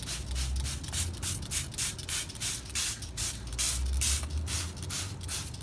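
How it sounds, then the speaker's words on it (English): Water spray rinsing de-rusting gel off a rusted vehicle chassis, a steady close hiss that pulses in repeated bursts as the jet sweeps across the metal. "So what we're doing now is just rinsing it off."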